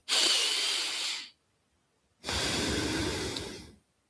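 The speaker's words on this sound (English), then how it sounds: "Take a deep breath and say quietly" A deep breath taken close up: a long, audible inhale, a short silence, then a slow, steady exhale, with no talking.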